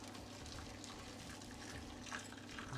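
Boiling hot water pours steadily into a pasta dish for a creamy tomato salmon pasta, a faint, continuous watery rush with no break.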